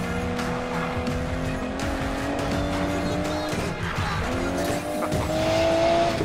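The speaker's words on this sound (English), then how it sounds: "It's not every day I get to take Rear's DB11 for a spin." An Aston Martin DB11 in the racing game Need for Speed Payback drives hard, its engine holding a steady loud roar as the tires squeal through corners, with no talking.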